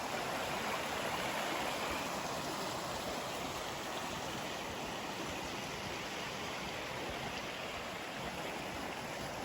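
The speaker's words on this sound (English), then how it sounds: "just following the little river stream up to Janet's Foss" A small river stream near Janet's Foss on a Malham walk, heard as a steady, close, full rushing and burbling of water that holds at the same level throughout, with no voices.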